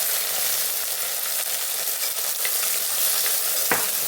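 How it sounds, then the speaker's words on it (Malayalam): Mustard seeds, dried chillies and shallots frying in hot oil, a steady close sizzle with faint crackles and one sharp clink of a utensil near the end. "എണ്ണ ചൂടായിട്ടുണ്ട്. കടുകിടുവാണ്. അപ്പോൾ വറ്റൽമുളക്. ഇത് കൊച്ചുള്ളി, പച്ചമുളകും കറിവേപ്പിലയും"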